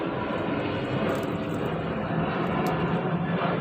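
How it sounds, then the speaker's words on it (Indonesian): A propeller airplane's engine drones loud and steady overhead, with a constant roar that neither rises nor fades over the few seconds. "Pesawat."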